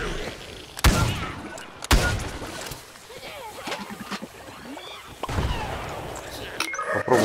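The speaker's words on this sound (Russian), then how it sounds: "у этого чувака сплэш-атака. Он как из шотгана примерно стреляет." Shotgun-like splash attack shots in Plants vs. Zombies: Garden Warfare, a few sharp blasts spaced about a second apart among game noise, with someone talking over them.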